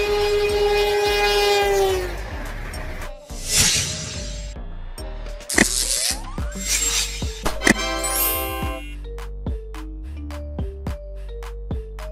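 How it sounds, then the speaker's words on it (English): A Spanish AVLO high-speed electric train passes with a rising whine and rushing noise, then fades into rhythmic clicking of wheels over rail joints. "Spain's AVLO trains travel across long-distance corridors with a stable mid-frequency."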